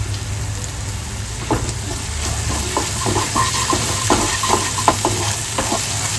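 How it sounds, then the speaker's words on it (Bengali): Masala frying in a pan for Bengali-style doi chicken, with a continuous close sizzle and a series of rhythmic scraping spoon strokes as it is stirred. "আমার মশলাটা কষিয়ে নেওয়া হয়ে গেছে।"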